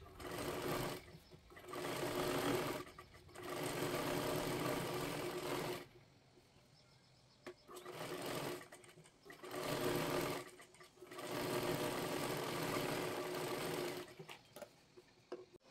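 A sewing machine stitching blouse sleeves runs in bursts of one to two seconds, a steady whirring hum that stops and restarts with brief quiet gaps between runs, close and fairly quiet.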